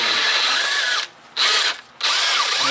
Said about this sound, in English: now I got to ream the rest of that out. It's just aluminum.